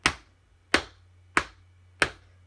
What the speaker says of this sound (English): how about I'll tap it on my leg?